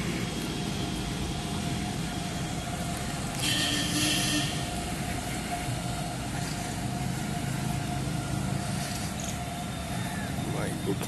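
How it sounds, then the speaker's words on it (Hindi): A metro train passes on an elevated track in dense winter fog in Delhi, heard as a steady, continuous rumble and rolling hum under someone talking throughout. "मेट्रो ट्रेन देखिए जा रही है"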